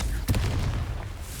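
The Confringo explosive spell in Hogwarts Legacy goes off as a single sharp, loud blast followed by a low rumbling decay, close and prominent over a steady background.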